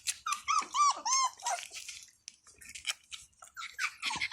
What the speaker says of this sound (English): They're learning how to howl.